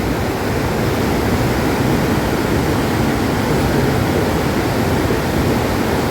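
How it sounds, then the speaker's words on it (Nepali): A river swollen by flood rushes nonstop, a dense, loud, broadband roar of churning water that stays close and steady throughout with no pauses and no voices. "यहाँ खोला बढ्यो फेरि।"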